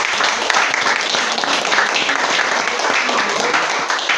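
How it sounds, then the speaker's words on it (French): Steady applause from an audience at a school event, honoring the director and administration of a Protestant school, dense clapping filling the whole stretch at an even level with no gaps. "S'il vous plaît, applaudissez."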